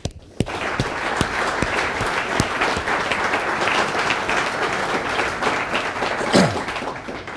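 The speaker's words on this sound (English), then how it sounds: "could you please join me in welcoming the Right Honourable Edward Davey, MP" An audience at a formal speaking event breaks into sustained applause welcoming a government minister, a dense, even wash of clapping that starts abruptly and carries on steadily.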